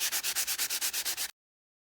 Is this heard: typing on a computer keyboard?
no